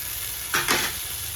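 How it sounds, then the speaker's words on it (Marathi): Chopped tomatoes drop into a hot pan of curry leaves and turmeric for Marathi kanda poha, giving a short, close burst of sizzling and stirring that rises and fades within about a second over a low background hiss. "त्यानंतर कट केलेले टमाटे टाकून घ्यायचं"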